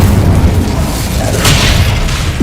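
A single loud fire spell bursts in the Hogwarts Legacy video game, a deep booming explosion with a rumbling low end and a brief crackling flare partway through.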